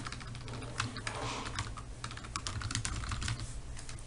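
Rapid, steady clatter of keys on a computer keyboard as a name is typed into a search form, close and continuous with no voices.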